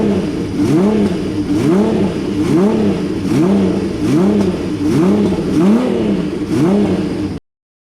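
Honda CBX1000 six-cylinder motorcycle with a custom 6-into-1 exhaust revving repeatedly, about a dozen rhythmic blips rising and falling at a steady pace, loud and close, then cutting off abruptly.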